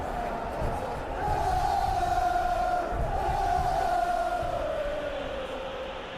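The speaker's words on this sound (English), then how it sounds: "Well, the crowd clearly like what they just saw." A stadium crowd in a football video game roars with cheering, a broad sustained swell of many voices that rises and holds, then eases slightly toward the end.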